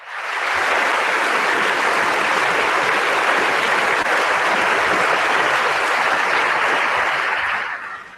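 Long, warm applause from a parliamentary audience breaking into the Italian President's speech, a dense, loud wash of clapping that swells in and holds steady before fading at the end.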